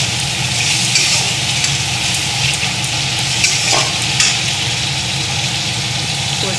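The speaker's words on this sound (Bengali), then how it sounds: "একটু মশলাটা দিয়ে একটু কষিয়ে নেব" Spice paste gravy for homemade chili chicken fries hard in a pan, a loud, dense and constant sizzle that carries on unbroken with a few faint clinks, close by and with no voices.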